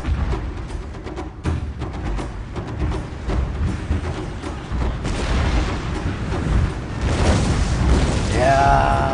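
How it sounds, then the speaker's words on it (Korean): Artillery bombardment and bomb drops in Shogun 2: a steady roar of heavy booms and rolling explosions, with sharp cracks early on, swelling louder toward the end and mostly free of talk. "포격 준비 완료 폭탄 투하"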